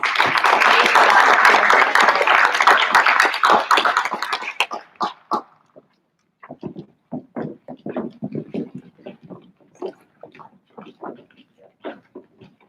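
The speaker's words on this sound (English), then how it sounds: "So let's have a big round of applause for our junior class." Loud, dense applause from a high school audience at a speech team recognition night for the junior class, thinning after a few seconds into scattered, isolated claps that trail off.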